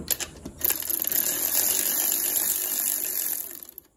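A power tool whirs steadily while bolts are torqued down on a Corvette TR6060 transmission being rebuilt, giving a close, sustained mechanical whine that starts with a few short bursts and stops abruptly near the end.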